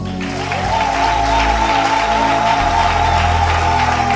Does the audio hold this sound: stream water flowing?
no